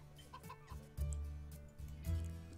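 Chickens cluck on a farm in the game Delicious: Emily's Childhood Memories, with soft repeated clucks over a steady game-music backdrop and a few brief louder bursts.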